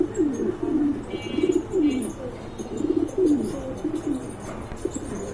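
Lahori pigeons, a pair in white and black with feathered feet, coo in repeated low rolling phrases close by, with faint chirps and background noise between the calls.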